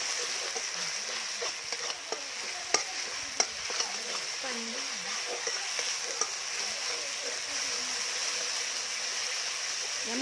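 Masala fries and sizzles in hot oil for a village-style chicken curry while a spoon stirs it steadily, with scraping clinks against the pan over a constant close, loud hiss.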